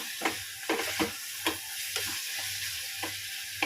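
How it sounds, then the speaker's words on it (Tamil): Turmeric and chili powder sizzle in oil in a pan as the base for masala noodles, with a steady frying hiss broken by regular scraping strokes of a stirring spoon, close and fairly quiet. "இது கொஞ்சோண்டு வதங்கட்டும்."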